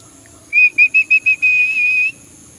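A person whistles to call a king cockatoo parrot: five short, bright, evenly spaced whistle notes followed by one long held note, loud and close against a quiet background.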